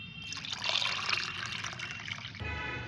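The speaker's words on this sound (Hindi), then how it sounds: "तो मैं इसमें 10 भाग सादा पानी मिलाऊंगी।" Plain water is poured into liquid fertilizer, a steady trickling and splashing that runs for nearly three seconds at moderate volume and changes character near the end as the pour shifts.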